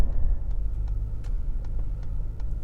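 A 2020 Ford Raptor with the twin-turbo EcoBoost V6 cruises along, heard from inside as a low steady road and engine rumble with faint ticking clicks scattered over it.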